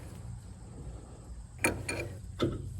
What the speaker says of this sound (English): I'll use the adjustable wrench to tighten that jam nut